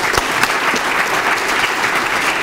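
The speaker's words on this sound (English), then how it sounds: "Let's give her a round of applause." Steady, dense applause fills a room at a fall festival breakfast, many hands clapping continuously and fairly loud with no pauses, right after the mayor is thanked.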